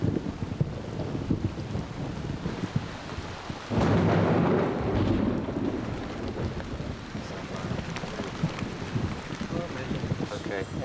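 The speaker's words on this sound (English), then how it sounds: "And then the clouds roll in and the rains come." Heavy rain falls in a rainforest during a thunderstorm, a dense hiss that swells into a loud rolling rumble of thunder partway through, with a voice talking over the downpour.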